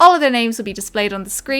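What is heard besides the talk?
No everyday noise stands out behind the speech.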